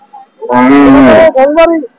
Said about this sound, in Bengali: আরেকটি গরু আসতেছে ষাঁড় গরু